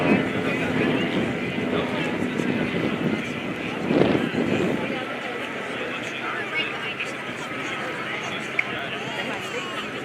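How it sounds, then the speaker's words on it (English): An aerobatic airplane at the 2024 Leesburg Airshow drones overhead, its engine swelling to a louder pass midway and then fading to a steady distant hum, with an announcer talking over it. "Bob Schmidle coming around for his landing gears, getting set up"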